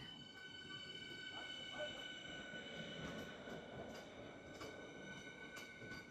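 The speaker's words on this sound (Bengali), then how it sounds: "ট্রেনটা কিন্তু কল্যাণী স্টেশন ছেড়ে এগিয়ে যাচ্ছে আস্তে আস্তে করে।" An AC local train rolls slowly out of Kalyani station toward Ranaghat, wheels squealing with a thin metallic whine over a low rumble and faint clicks, heard quietly from the platform.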